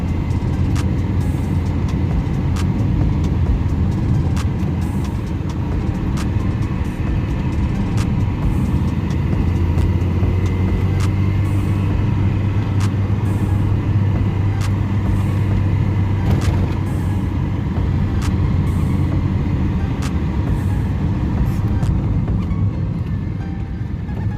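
A 1997 Tofaş Şahin S sedan driving on the road, a steady low engine drone with broadband road and wind rumble throughout, sporadic faint ticks and clicks, no talking.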